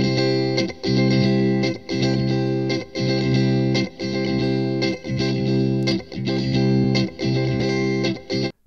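Recorded guitar chords from a Ketron arranger at 135 BPM, a loud, distorted, chorus-tinged strummed pattern repeating in steady bursts with brief gaps, no voices.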